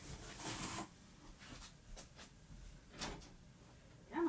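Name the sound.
door opening to let a scratching dog in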